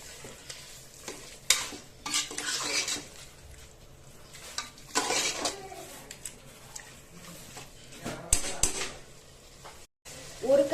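Chicken being stirred with ground ginger-garlic masala in a hot pan for hariyali green chicken. Close, loud scraping stirs and bursts of sizzling come and go, mixed with occasional clinks of the pan.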